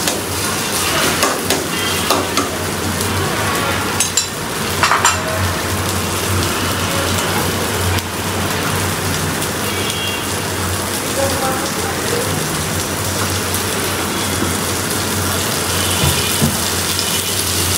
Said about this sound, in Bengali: তো শুটকিটা এখন সুন্দর করে ভেজে নিব